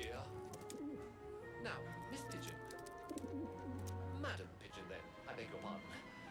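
Low, rolling pigeon coos repeat under a woman's speech in the video game Syberia The World Before, the bird near and steady against a busy game soundtrack.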